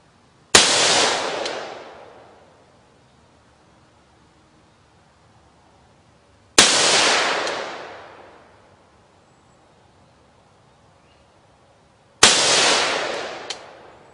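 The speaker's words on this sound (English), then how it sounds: "let's try some Golden Tiger 223, which is 56 grain ammunition at 100 yards out of the H&K MR556A1 with a 4-power ACOG." Three sharp rifle shots from an H&K MR556A1 with a 4-power ACOG firing Golden Tiger .223 56-grain ammunition at 100 yards, each a loud crack with a decaying echo, spaced about six seconds apart.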